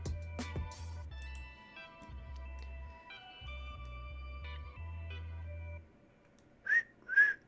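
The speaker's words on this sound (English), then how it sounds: "That's me whistling." A person whistles a simple melody of sustained clear tones over a low humming background, followed by a pause and then two short rising whistle notes.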